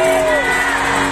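A church congregation in the Dominican Republic cheers and shouts during a sermon, a loud continuous crowd roar with a few sustained voices rising above it, packed and close throughout this short burst.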